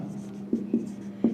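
Someone writes or draws on a board during a lesson, with three brief tapping strokes over a steady low hum, close and moderately loud, with no voices.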